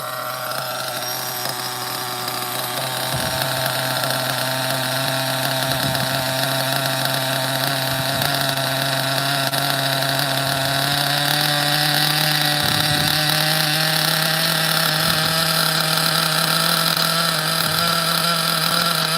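Nitro engine of an OFNA Ultra MBX RC buggy with a Hyper 21 engine runs steadily and loudly near the mic, a rich buzzing drone with small dips in pitch and load, with no talk.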